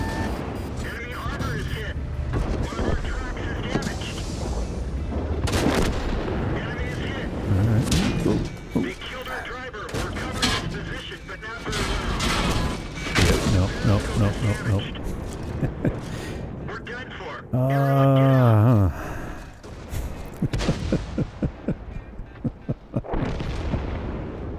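Artillery shells land nearby in a tank video game, with several booms and thuds scattered among ongoing talk and other battle noise.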